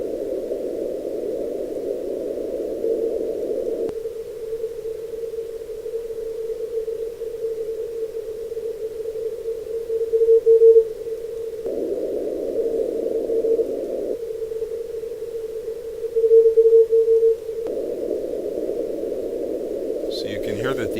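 Radio signal in band noise heard through a Flex 6xxx receiver's filter with the APF switched in and out, a steady narrow hiss band with a faint tone whose width shifts several times, alone.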